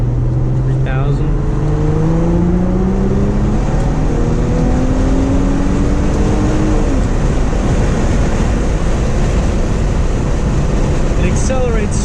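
From inside a 2003 Infiniti G35 Coupe with the windows down, the engine climbs steadily in second gear with a rising tone, then eases off, with wind and road roar throughout and talk over it.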